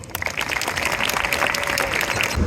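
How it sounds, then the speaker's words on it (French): An audience applauds at an indoor family show, a dense, steady burst of clapping from many hands that runs for a couple of seconds. "Je vous invite donc à encourager notre savante Ada en l'applaudissant bien fort."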